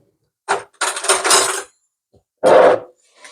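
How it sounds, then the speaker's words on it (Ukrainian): Homemade sauerkraut is tipped into a large pot of vinaigrette salad in three short, close bursts of wet clattering and plopping, separated by brief silences. "Далі ми додаємо квашену капусту"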